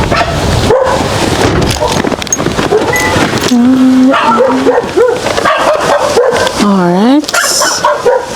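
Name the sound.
dog barking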